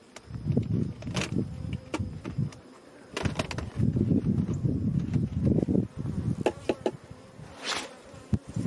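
Honeybees buzz around a hive during an inspection, a low droning hum that rises and falls in bursts, with faint rustling and occasional sharp ticks nearby.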